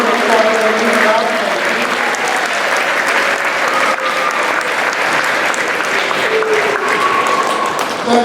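A concert audience gives a school choir a full round of applause at a winter Christmas concert, with dense, even clapping that holds steady for several seconds and faint voices beneath it.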